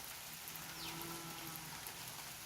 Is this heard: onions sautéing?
no